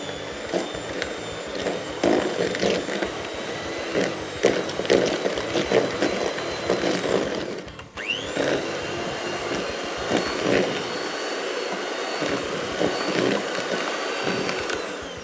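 A kitchen machine mixes brownie batter after two tablespoons of oil go in, giving a loud, steady motor whir that runs throughout, with a brief dip partway through and no talk over it.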